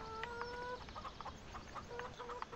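Chickens cluck in a steady, busy scatter of short calls in a Farming Simulator 17 farmyard, with a few sustained tonal notes among them over a constant low game-ambience bed; no one speaks.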